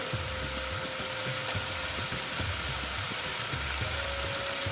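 Cauliflower and potato fry in a pan with Kashmiri red chilli powder and turmeric, giving a loud, steady, close sizzle that holds evenly throughout with no voices.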